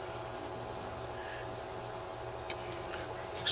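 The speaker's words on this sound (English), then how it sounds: "It's just a damn cricket." Cricket chirping steadily in short high repeated bursts, moderately close, over a constant low hum and background noise, with no talking.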